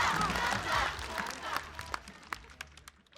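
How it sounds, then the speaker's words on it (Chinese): An audience at a live stand-up comedy show claps and cheers, a dense burst of applause that thins into scattered claps and fades over a few seconds. "掌声，谢谢大家"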